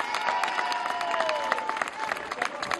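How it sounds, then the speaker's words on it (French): At an outdoor rally against the far right in Auxerre, a crowd claps loudly and steadily, with sustained voices or whistles drawn out over the dense clapping. "il faut l'applaudir très fort"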